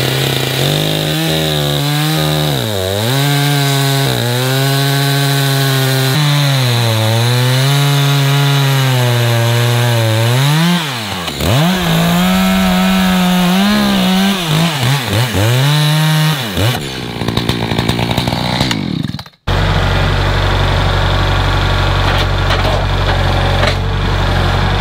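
A chainsaw cuts through a crooked, knotty walnut log by a sawmill. The loud engine runs steadily with repeated rising and falling revs, then breaks off abruptly into a different, rougher noise.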